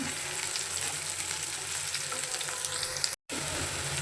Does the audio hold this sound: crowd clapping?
no